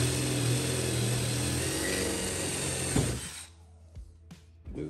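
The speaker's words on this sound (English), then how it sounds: "I use my drill to make a starter hole and then get the jigsaw in" A power drill bores a starter hole in a coffee cart panel before a jigsaw cut, the loud steady whine running for about three seconds, then stopping into quieter handling noises and a couple of short knocks.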